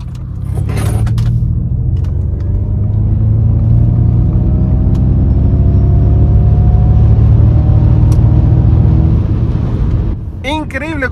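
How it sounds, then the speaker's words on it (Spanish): An electric sports car of over 300 horsepower accelerates hard, a loud, steady rising motor whine and road rumble filling the cabin for about ten seconds while someone speaks excitedly over it. "No puedo creer cómo acelera esta cosa, chavales."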